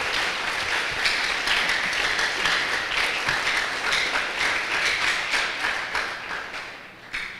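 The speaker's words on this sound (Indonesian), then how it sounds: "kita beri tepuk tangan untuk Ibu Hetty Marpaung ya" Lecture audience at a theology college in Makassar giving a round of applause to a speaker, sustained dense clapping from a large room that holds steady, then tapers off near the end.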